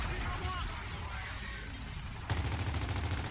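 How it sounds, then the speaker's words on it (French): Gunfire from the video game Gears of War 4 during a cooperative campaign battle, a dense, continuous crackle of shots with a sharper, louder burst near the end, while a player talks over it. "Attention les tirs."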